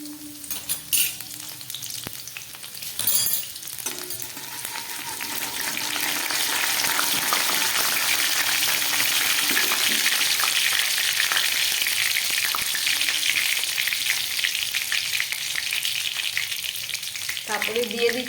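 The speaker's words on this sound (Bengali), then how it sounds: "দিয়ে দিলাম কড়ার মধ্যে সাদা তেল। একদম প্রথমে দিয়ে দিচ্ছি আমি কিছুটা কুচনো রসুন।" Chopped garlic frying in white oil in a kadai, a steady close sizzle that swells and holds loud, with a few light clinks of a utensil near the start and end.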